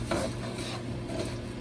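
A spoon stirs uncooked rice through oil in a pan for Spanish rice, a close, steady scraping and gentle sizzling rustle.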